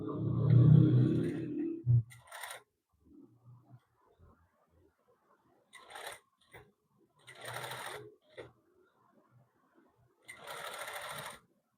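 A sewing machine stitches a suit hem in short bursts, with a loud start followed by several brief runs separated by pauses, near and clear.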